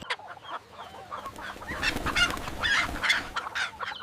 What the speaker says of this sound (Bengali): ওই জরিনা, অনেক টাকা দিয়া এই মুরগিটা আনলাম